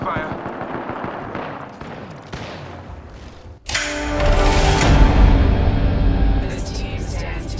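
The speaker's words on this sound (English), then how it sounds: "Listen up, I'm getting shot at." Gunfire in the Apex Legends video game: rapid automatic bursts crackle close and loud, building into a dense, sustained barrage in the second half, with a voice speaking over the shots.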